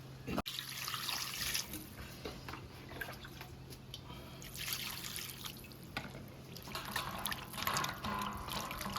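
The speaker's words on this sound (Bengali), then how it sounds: "আগে আমি মাংসটা ধুয়ে নিই" Raw chicken meat being washed under a running kitchen tap, a steady close rush and splash of water into the sink with small trickling and dripping sounds throughout, no talk.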